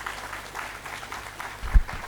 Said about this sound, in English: I think you should give a round of applause to your parents